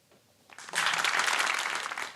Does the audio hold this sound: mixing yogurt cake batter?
no